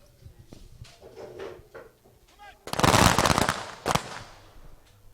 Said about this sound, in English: So we'll have 3 volleys.